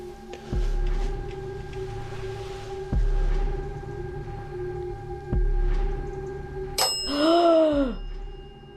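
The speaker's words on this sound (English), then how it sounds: "Dead bell and the REM pod both going off." A dead bell ghost-hunting device chimes during a paranormal investigation, a bright ringing tone sounding briefly near the end alongside a REM pod, over a repeating low thump and a steady electronic hum.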